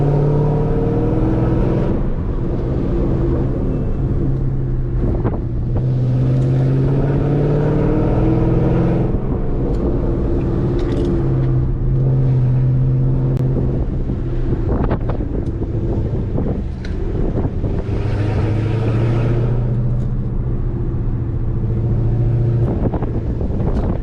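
A Dodge Charger Scat Pack's V8 exhaust with newly installed MFER1 active exhaust valve openers rumbles loudly and steadily throughout, with swells of revving and buffeting wind noise on the microphone, and no one speaking.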